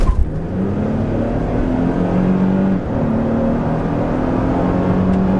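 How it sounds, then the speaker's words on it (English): A 2025 Toyota Tundra SR5 TRD Rally pickup engine revs and pulls steadily while merging onto a highway, its rising drone loud and continuous throughout as it gathers speed. "It's a good sounding engine, but this thing, it gets up to speed very well"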